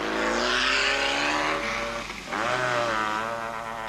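Engines of rally vehicles in the 1988 Baberspan 500, a car and bike off-road event, driving through slush: a steady revving drone with rising and falling pitch, a brief dip, then climbing again, fairly close.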